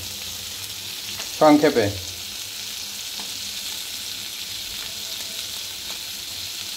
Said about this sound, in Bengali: এখন মাছ ভাজা করব